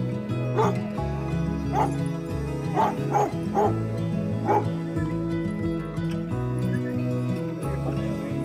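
A dog barks and yips in short bursts on reuniting with its owner after six months apart, with several sharp yelps and whimpery sounds over a steady low hum in the background.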